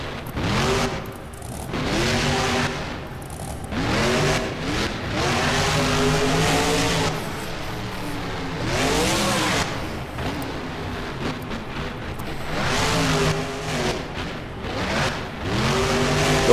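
Monster truck engine in the BeamNG driving game during a freestyle run at a Lincoln Financial arena, repeatedly revving and dropping in loud, close surges over ramps and spins.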